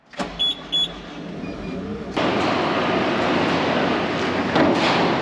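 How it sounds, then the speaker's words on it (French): A telehandler engine, already warmed up, is started: a few short whirring starter clicks, then the engine catches and settles into a steady, loud, close diesel rumble that continues without pause. "On va démarrer le télesco, on l'a déjà fait chauffer ce matin."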